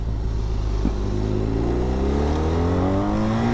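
A BMW HP2 Sport motorcycle accelerates hard in first gear. Its close, loud engine note climbs steadily in pitch over a few seconds as the revs build, with no pause.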